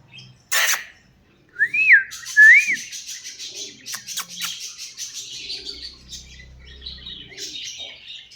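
A pet female parrot whistles two quick rising-and-falling notes after a sharp click. Scattered chirps, squawks and faint rustling follow at moderate volume, with no voices.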